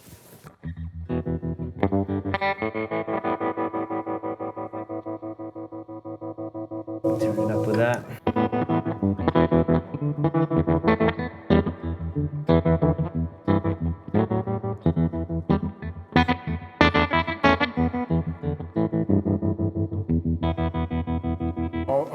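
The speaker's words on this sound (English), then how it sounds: "It gives you this great broken amp sound" A guitar played through a pedal producing a raw, broken-up amp distortion with a wobbling, glitchy texture, loud throughout with a brief spoken remark near the start.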